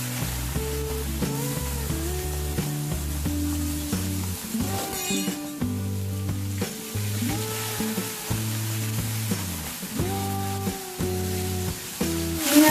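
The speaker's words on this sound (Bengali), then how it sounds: "চিংড়ি মাছটা ভাজা হয়ে গেছে" Prawns fry in about 100 grams of hot oil in a pan with a steady, continuous sizzle and occasional stirring. Background music plays throughout.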